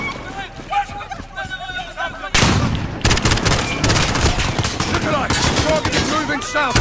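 Bursts of rapid gunfire crackle loudly over shouting voices in Call of Duty: Modern Warfare (2019) on PS4, with repeated volleys continuing after a sudden burst partway through.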